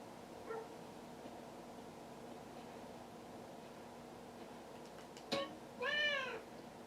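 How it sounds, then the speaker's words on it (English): A cat meows inside a heavily modded GTA San Andreas video game, with a faint mew early on and then a clearer, drawn-out meow near the end over a low steady background hum. "There's a cat right there."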